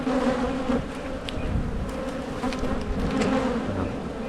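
Honeybees buzzing steadily throughout an open-hive inspection, a dense continuous hum from many bees close to the microphone with no talk.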